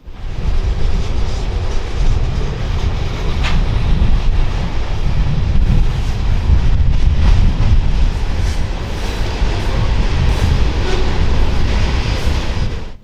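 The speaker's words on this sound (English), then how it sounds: "the train we saw in the distance earlier rounds the bend onto the straightaway with another mile of freshly mined black" A Union Pacific coal train rolls past on a straightaway in the Powder River Basin, a steady, loud, continuous rumble and rattle of wagons close by, with wind buffeting throughout and no talk.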